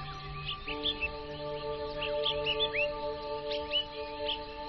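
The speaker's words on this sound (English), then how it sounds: "In the morning, all you can hear are the sounds of your own footsteps and the birds chirping in the distance." Birds chirp and twitter repeatedly on a mountain in the morning, small bright calls scattered over a steady faint background hum, moderately distant.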